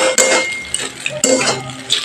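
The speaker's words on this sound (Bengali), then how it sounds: "আমি অনেকক্ষণ ধরে নেড়ে নিচ্ছি ভালো করে" Metal utensil scraping and clinking against a pan while white sauce pasta is stirred, close and fairly loud, with a few sharper clinks over a steady scrape and no voices.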